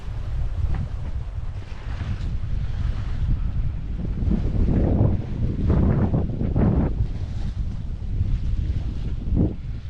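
A sailboat under a single-reefed mainsail makes about 5 knots in thick fog off the route to Holyhead, with steady wind buffeting the microphone over a low rush of water and waves throughout.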